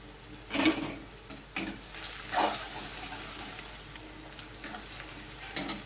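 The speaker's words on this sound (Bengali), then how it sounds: "রসুনটা একটু নেড়ে চেড়ে নিয়েছি" Chopped onion and garlic frying in a pan while being stirred, with a few scraping spatula strokes over a soft, steady sizzle at moderate volume, no voices.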